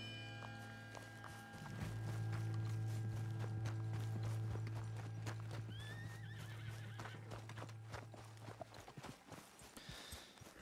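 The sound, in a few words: horse galloping and neighing in video game Red Dead Redemption 2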